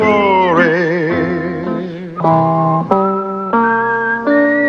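A whistled melody from the theme song of the TV western Tombstone Territory, one clear sustained line with gliding, warbling notes that step between held pitches, loud and close with no talk over it.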